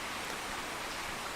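Rain falls steadily outside, a dense even hiss with no pauses, fairly quiet and close.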